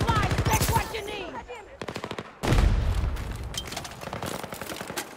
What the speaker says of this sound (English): there's a sniper hitting me a lot